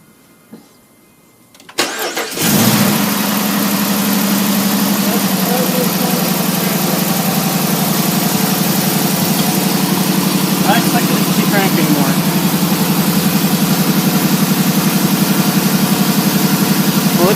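A Dodge Charger R/T with a newly installed SRV intake cranks briefly, catches and settles into a steady, loud idle that continues without a break, with faint voices underneath.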